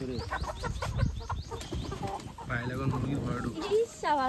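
Chickens cluck and squawk inside a coop at a poultry keeper's home, with busy overlapping calls close by and some voices mixed in.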